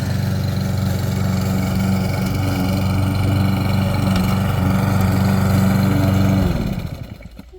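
A garden lawn mower runs close and loud with a steady buzzing engine drone that holds for several seconds, then cuts out and fades to quiet near the end, with no talk.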